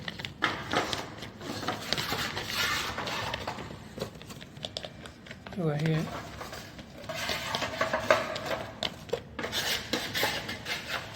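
Two tubes of adhesive being mixed with white cement for setting a teak wooden threshold, steady scraping and rasping strokes up close, with someone talking intermittently over the work.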